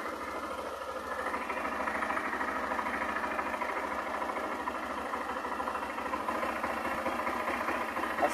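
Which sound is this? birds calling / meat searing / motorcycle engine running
motorcycle engine running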